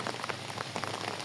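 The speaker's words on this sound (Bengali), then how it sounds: "বৃষ্টি প্রচণ্ড।" Heavy rain pouring beside a canal, a dense, steady hiss of drops striking surfaces close by, continuous and unbroken for a brief moment with no talk.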